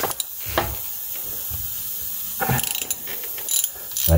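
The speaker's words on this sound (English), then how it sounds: "By holding it like that with some kind of a pry bar, you can crack the bolt loose" A ratchet wrench clicks in short bursts while loosening a CV axle bolt on a Mk4 VW Jetta TDI with the ALH engine and manual transmission, close-up metallic ratcheting separated by pauses in a garage.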